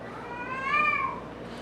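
A pet cat meows once, a clear, drawn-out cry that rises and falls over steady low background noise, close by and with no talking.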